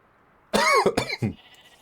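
A single sharp cough, close and loud, breaking into two or three quick hacking bursts before fading into quiet.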